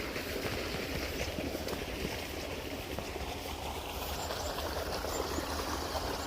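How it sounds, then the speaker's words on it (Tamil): Pumped water pouring steadily into a sugarcane field, a continuous close rushing and gurgling flow with no pauses. "பார்த்தீங்கன்னா தண்ணி ஊற்றிட்டுருக்கு. கரும்பு வயலுக்கு தான் போயிட்டுருக்கு."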